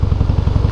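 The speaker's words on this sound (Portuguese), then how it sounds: "A moto, ela tá apresentando um barulho aqui na primária. Eu não sei o que é. É um rangido." A motorcycle's primary drive gives a repetitive low clattering, creaking rumble, steady and close, cycling rapidly with regular knocks and no voices over it.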